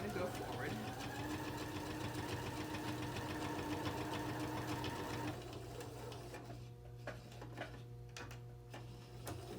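A sewing machine stitches a fabric seam for a fabric bin with a rapid, steady mechanical chatter of the needle. The stitching stops partway through, leaving a low hum and a few scattered clicks, and someone talks over it throughout.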